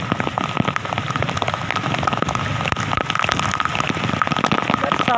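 Steady rain falls in a village during the rainy season, a dense continuous patter of drops on surfaces with scattered sharper drips, close and fairly loud, with no talking.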